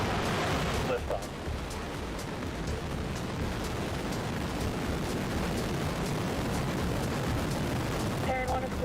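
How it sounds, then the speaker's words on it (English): Relativity Space Terran 1 rocket lifting off on its test flight, a dense, continuous crackling roar that stays loud and rumbling throughout, with a voice speaking over it. "Terran 1 has cleared the tower."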